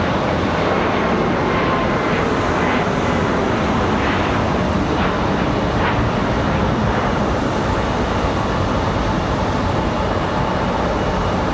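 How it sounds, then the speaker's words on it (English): A Southwest airliner departs Raleigh Durham airport, its steady engine roar continuous and fairly loud throughout with no break. "Southwest going to do like Aeromexico and depart early"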